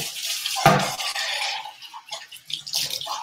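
Water runs while cans are rinsed out for recycling: a brief, splashy stream with a clattering hit near the start, close and moderately loud.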